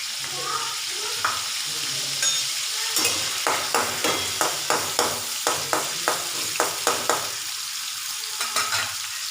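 Onion and a little garlic fry in a pan with a continuous sizzle, while a spatula scrapes in a quick, regular rhythm of repeated strokes close by.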